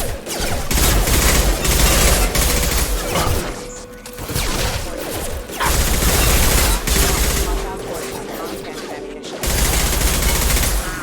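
Heavy automatic gunfire against hostile mechs in the sci-fi shooter Mass Effect 2, with loud sustained bursts and short pauses between volleys, close and dense throughout.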